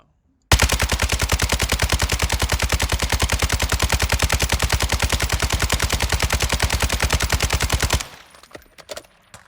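Sustained automatic fire from an RPK machine gun in Warzone 2, a loud, rapid, evenly spaced stream of shots lasting about seven and a half seconds before cutting off into faint clatter.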